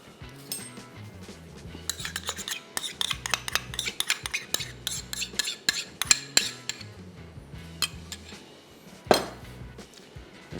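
Metal spoon scraping and clinking around a pot while cream is stirred into matar paneer gravy, a quick irregular run of close clinks and scrapes with no talking.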